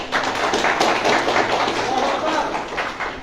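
Audience at a religious lecture breaking into applause, a dense, continuous patter of clapping that stays loud and steady throughout, with speech mixed in.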